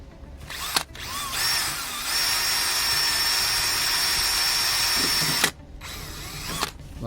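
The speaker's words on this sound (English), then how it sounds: "then what you're going to do is literally drill a pilot hole" A power drill whirs steadily for several seconds while boring a pilot hole through a universal side skirt on a 2013 Mazda 2 DE five-door, with a short spin-up before and brief trigger bursts after.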